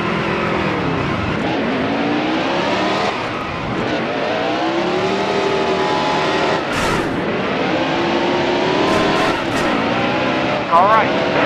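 Race cars in a racing game, engines whining and shifting pitch as a car pulls alongside and others run nearby, a continuous loud drone with a voice speaking over it.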